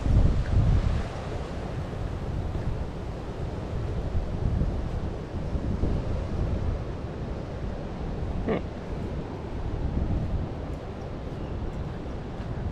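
Strong gusts of wind roar across an open outdoor spot in Indiana, a loud, continuous buffeting rush that swells and eases over the microphone, with no talking.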